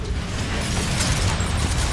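Explosions and bursts in the Transformers: Rise of the Dark Spark video game, a dense, continuous barrage of booms and pops with mechanical clatter, loud and steady throughout.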